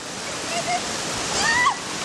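Waterfall in a canyon, a steady broadband rush of falling water filling the whole clip at close range, with brief bird-like chirps and faint talk over it.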